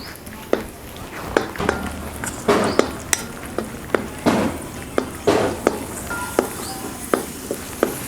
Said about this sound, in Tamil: அடுத்தது நம்ம எடுத்து வச்சுருக்க திராட்சையும் வறுத்து எடுத்துக்கலாம்